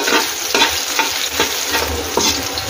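Chopped ginger sautés in a hot pan while a mussel dish is started: a steady, bright sizzle fills the background, broken by close scraping stir strokes that come roughly every half second, with no talking.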